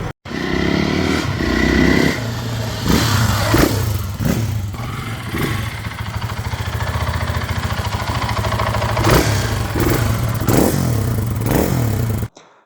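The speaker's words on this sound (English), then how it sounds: "2024 Gas Gas ES500. This is their travel enduro." A 2024 Gas Gas ES500 enduro motorcycle engine runs close and loud, idling with a clattering thump and repeatedly blipping through sharp revs.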